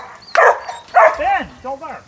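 A farm dog on a sheep farm gives a few short, sharp barks and yips close by, with people talking around it.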